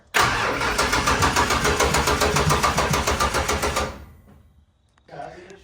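Ford Falcon engine cranking with a rapid rhythmic churn for about four seconds before catching briefly, then a short pause and another burst of engine noise; loud and close, with no speech.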